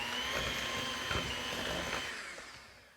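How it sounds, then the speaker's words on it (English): Electric blender whirring as it mixes a cream cheese filling for tiramisu, a steady motor drone with a whining tone that fades slightly toward the end, heard alone. "here comes our blender again. In we go, and let's get this. We're just basically going to blend it until it's all incorporated nicely."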